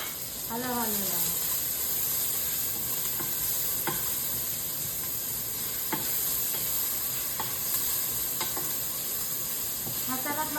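Ginger and onion sauté in a pan for tinola with a steady close sizzle, broken by occasional sharp scrapes as a utensil stirs them; a brief voice sounds at the start and again near the end.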